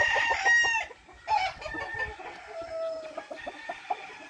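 A yellow, one-eyed fighting rooster crows once near the start, followed by a few shorter calls and clucks, fairly close and alone.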